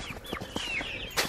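Chickens inside a chicken tractor wrapped in greenhouse plastic on a snowy, cold day make a short burst of close clucks and squawks, several quick calls overlapping.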